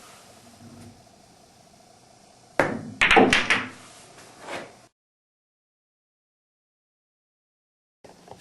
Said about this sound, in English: I'm going to shoot straight through the center of the cue ball.